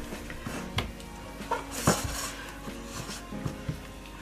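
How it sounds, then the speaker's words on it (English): A soap mixture flavoured with tea is stirred in a pot, giving close, irregular clinks and scrapes of a utensil against the metal sides, fairly quiet and without talk. "Just give it a little stir"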